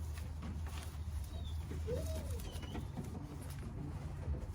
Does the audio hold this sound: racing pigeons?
yes